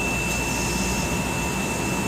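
Styrofoam production machinery runs at a factory in Vancouver, Canada, giving a steady, loud, unbroken industrial roar and hum with faint tonal whine throughout, no voices.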